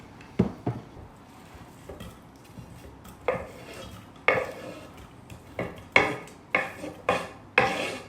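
Onions go into a pan for a vegan sausage curry, giving a series of sharp clinks, scrapes and stirring clatters of utensil against the pan, close and spaced irregularly, with no speech.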